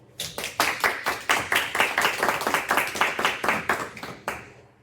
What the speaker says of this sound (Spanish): muchas gracias Laura, un aplauso